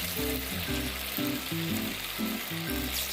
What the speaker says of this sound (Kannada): ಈಗ ಮುಳುಕ ಮಾಡಲಿಕ್ಕೆ ಬಾಣಲೆಯಲ್ಲಿ ಎಣ್ಣೆ ಇದೆ ಅದಕ್ಕೆ ಮುಡುಕ ಹಾಕ್ತಾ ಇದ್ದೇನೆ